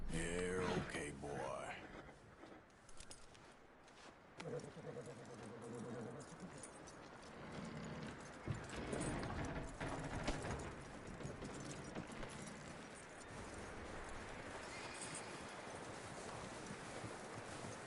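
Horse hooves clip-clop softly in Red Dead Redemption 2, a faint, uneven patter of steps mixed with jangling tack, wind and quiet talk.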